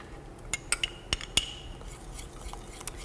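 A spoon stirs pound cake batter made with cream cheese in a bowl, giving a run of light, irregular clinks and taps against the bowl that thin out into quieter scraping.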